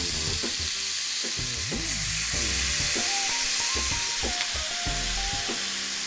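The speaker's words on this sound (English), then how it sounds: "You don't want to disturb that searing and browning." New York strip steaks sear in a hot pan, a loud, steady sizzle and hiss of frying fat that continues throughout, with faint clinks and scrapes in the background.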